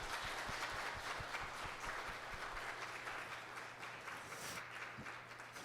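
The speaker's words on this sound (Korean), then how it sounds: "우리 한번 하나님께 영광 박수를 한번 돌리겠습니다" A church congregation gives applause at a New Year thanksgiving service, a soft, distant wash of many hands clapping steadily with a few sharper nearby claps.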